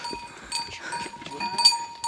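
A small bell on a goat tinkles with clear ringing tones a few times, mixed with faint rustling and shuffling nearby, on a trek in Nepal.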